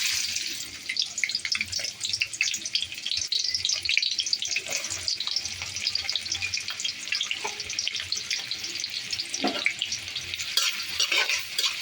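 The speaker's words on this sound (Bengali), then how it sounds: "পেঁয়াজটা ভাজা হয়ে গেছে" Onions fry and sizzle in a pan while being stirred, a steady close crackle with scraping and clinks throughout, fairly quiet.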